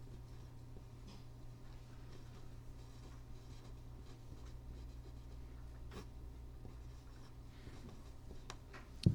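A formula being written by hand during a math lesson, a soft continuous scratch of pen or marker held close against a low steady hum, ending in a brief knock.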